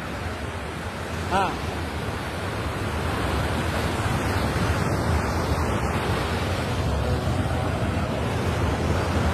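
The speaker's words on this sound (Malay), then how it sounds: "Cuba perhatikan betul-betul ombak dia." Ocean surf breaking on a beach at Dungun under poor, near-monsoon weather, heard as a steady, loud wash of broadband noise with continuous wind buffeting the microphone and no distinct individual wave crashes.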